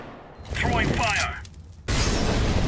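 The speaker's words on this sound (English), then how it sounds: "Throwing fire." An incendiary grenade thrown in the CS:GO video game, a brief whooshing toss followed by a sharp glassy shatter that breaks into a loud, sustained crackling burn.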